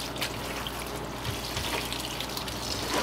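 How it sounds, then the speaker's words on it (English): Cold tap water runs steadily over food being rinsed in a sink while preparing Korean kimchi, a continuous close splashing and trickling with no talk. "Rinse it again."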